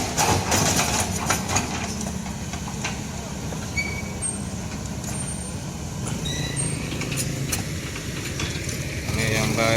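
An excavator engine running on a congested road, a steady loud diesel rumble with occasional hisses and clanks amid surrounding traffic noise.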